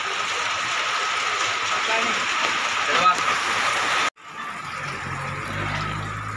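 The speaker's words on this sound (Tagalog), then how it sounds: "Noy, lumakas na ang ulan, Noy." Heavy rain pours steadily in a tropical downpour, a dense close hiss that cuts off abruptly near the end and then resumes more softly with a low rumble.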